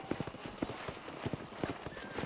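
Horse hooves clip-clop in steady galloping rhythm in the PC version of Red Dead Redemption, close and prominent over a constant ambient hiss.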